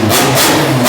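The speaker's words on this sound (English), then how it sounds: "I swear, nothing beats the sound of an all-motor car." A 400-horsepower naturally aspirated K-Series engine in a Honda Civic revs hard, a brief, loud, raspy burst with pulsing intake and exhaust rises, close up and with no voices.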